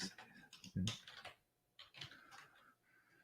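Soft, uneven clicks of typing on a computer keyboard during a livestream sit close but faint, mixed in with quiet talking.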